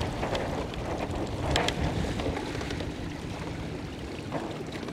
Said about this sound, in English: Trying to sail and film when it's windy.